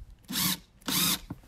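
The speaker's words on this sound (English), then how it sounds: "we're gonna put two screws in it. And these are the 2-inch screws to hold it together." Power drill driving two 2-inch screws into a wooden Easter bunny craft, two loud whirring bursts each lasting about a quarter second, close up with brief pauses between them and no talk.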